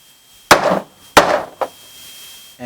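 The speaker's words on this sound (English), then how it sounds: "you just put it on there, use a hammer" A hammer drives a tight new bushing into the track bar of a Jeep Grand Cherokee, striking two sharp, ringing metallic blows about half a second apart, then a lighter third tap, alone and close up.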